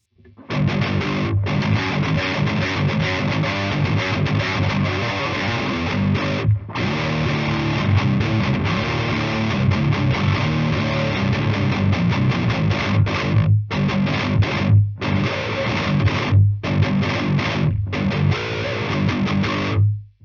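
Heavily djent-style distorted electric guitar plays loud, sustained chords through a tiny Hotone Heart Attack amp with a Fortin 33 boost pedal, with a few brief gaps between phrases.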